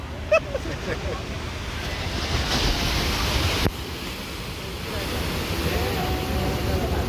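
Steady roar of sea waves breaking on the shore, with heavy wind buffeting the microphone throughout and a brief voice near the start.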